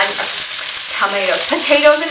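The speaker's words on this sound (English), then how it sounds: "my steak is sizzling away" Steak sizzles loudly in a hot pan, a dense crackling hiss close up, with faint scraping of stirring underneath.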